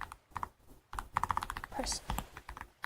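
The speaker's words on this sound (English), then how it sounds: "We'll keep the cozy keyboard sounds going." Soft, close bursts of keystrokes on a computer keyboard in an ASMR sleep-aid setting, with quick irregular clicks separated by short pauses and faint murmuring between them.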